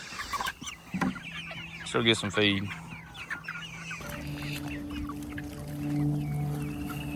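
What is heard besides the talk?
chickens clucking on a farm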